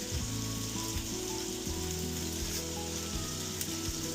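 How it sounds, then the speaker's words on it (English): Burgers fry in a pan with a steady, close sizzle and crackle, alone with no talk. "So while the burgers are cooking"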